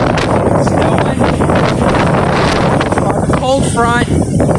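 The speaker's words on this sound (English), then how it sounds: "Still windy." Strong storm wind buffets the microphone in a steady, loud roar, with a person speaking under the gusts and a brief tonal squeal near the end.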